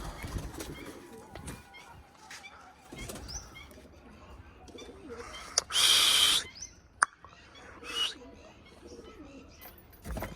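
Pigeons coo softly in low, murmuring calls amid rustling and a few sharp knocks, with a loud burst of flapping or fluttering midway and fainter bird sounds around.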